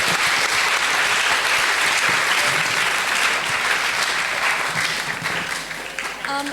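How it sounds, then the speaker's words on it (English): Audience at a student leaders summit panel discussion applauds its panelists, a loud, dense, sustained wave of clapping that fills the space alone, easing slightly toward the end. "please give another warm round of applause to our panelists"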